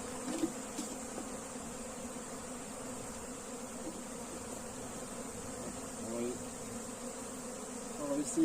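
Bees buzz in a dense, steady drone around a hive, with a few nearer passes rising briefly above the constant swarm.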